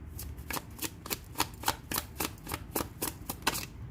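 Rapid, rhythmic riffling of tarot cards being shuffled close up, a quick series of crisp bursts with no talking.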